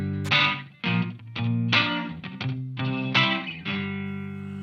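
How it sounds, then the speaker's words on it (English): Electric guitar played through an EarthQuaker Devices Silos delay pedal in digital mode with a short slapback setting and few repeats, a series of strummed chords each trailed by a quick echo, clear and upfront with no talking. "you can hear it gives it just that simple, basic, really quick slapback delay, and that's because we're in digital mode"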